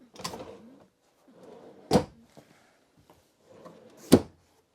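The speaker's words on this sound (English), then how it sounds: "drawers" Storage drawers in an RV dinette slide open and shut, giving three separate close wooden knocks with soft sliding rubs between them, in an otherwise quiet room.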